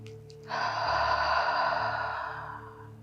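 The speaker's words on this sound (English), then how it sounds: "we'll end this practice with the deep cleansing breath in through the nose and releasing out of the mouth" A deep cleansing breath at the end of a yin yoga practice: a brief sniff, then a long, steady exhale that fades gradually, close and clear with no talking.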